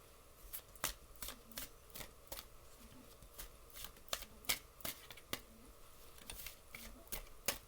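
Tarot cards are shuffled and handled close by, giving sharp, quiet riffling snaps at irregular intervals against a soft, hushed background.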